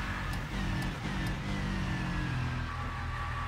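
Porsche and Audi race cars in the Rennsport racing game, a loud sustained engine drone with a rising whine, close and continuous with no pauses.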